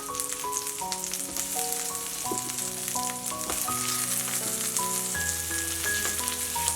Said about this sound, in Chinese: 盖上盖子，煎至定型。